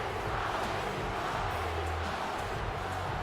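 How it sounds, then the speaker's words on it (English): A large arena crowd in the WWE 2K18 wrestling video game roars steadily, a dense and unbroken wash of cheering, with no single voice standing out. "And you hear the crowd here."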